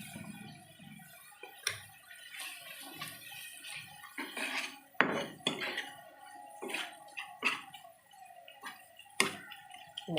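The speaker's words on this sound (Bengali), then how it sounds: "মশলাটা ফ্রাই করে নিচ্ছি ভালো করে।" Spiced masala for a Bengali loitta (Bombay duck) fish tel jhal fries in a pan with a splash of water, with irregular utensil scrapes and clinks against the pan over a low, steady sizzle.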